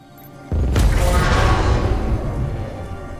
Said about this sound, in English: that booming alarm that signifies being spotted by mules